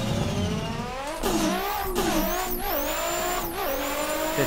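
Bando's ESDA Forest Wang Nissan S15 drift car at Irwindale in a racing game, engine revving hard and climbing through gears with repeated rising whines, tire squeal underneath, loud and continuous.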